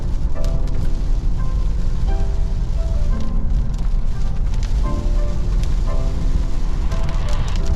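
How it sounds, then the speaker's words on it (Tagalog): Heavy rain roars loudly and continuously close by during a road trip to Sindangan, a thick wash of noise with faint tonal hums mixed underneath. "Si Abibi, Na abutan kami ng ulan"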